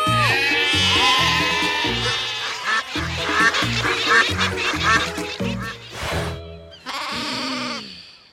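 A sheep-call mode in a children's cartoon gives out a run of bleats, loud and close, one after another in an uneven rhythm. A brief pause comes before a final bleat near the end.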